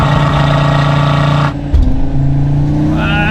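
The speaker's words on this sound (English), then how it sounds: "So let's start things straight off with a cheeky launch control" A 5-cylinder car launches hard from launch control, engine loud and close with a strong droning rev, a brief gear-change dip, then pulling again as revs climb.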